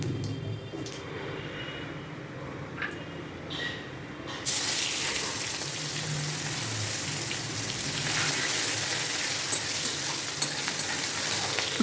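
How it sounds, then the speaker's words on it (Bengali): Chopped onions frying in a pan for a pomfret fish curry, a steady sizzle that jumps louder midway as they hit the hot oil, with occasional stirring scrapes throughout. "ভালো করে ভেজে নিচ্ছি।"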